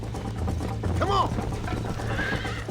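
A horse in the Red Dead Redemption video game whinnies loudly mid-clip over a steady clip-clop of hooves, with rattling tack and faint background voices.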